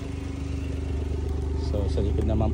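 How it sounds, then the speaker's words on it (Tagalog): Noisy exhaust of a Suzuki DA17W top-of-the-line van idling with a steady low rumble, close and moderately loud, with a faint clatter over it. "medyo maingay lang po yung tunog ng ating exhaust"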